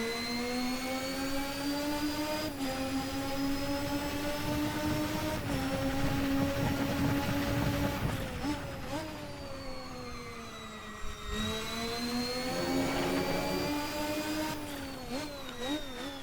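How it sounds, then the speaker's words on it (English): In the video game Assetto Corsa, a McLaren MP4/4 Formula 1 car engine screams close and loud with a high gearbox whine, its pitch climbing steadily and dropping sharply at each gear change. "You get the whine from the gearbox"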